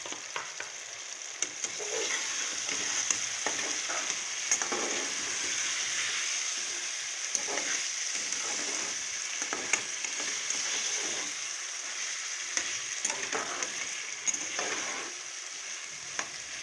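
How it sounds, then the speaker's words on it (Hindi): Potatoes fry in a pan for an Indian aloo tinda sabzi, a steady close sizzle with scattered crackles and occasional stirring scrapes, no voices. "आलू भी डाल के मैंने इसको थोड़ा सा भून लिया है।"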